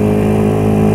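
A motorcycle engine with the throttle held lightly, a loud, steady, close drone that stays even for a moment with no revving.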